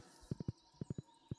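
Horse hooves clip-clopping in the Stardew Valley video game, three evenly spaced groups of three crisp clops repeating in a steady trotting rhythm, moderately loud and without speech.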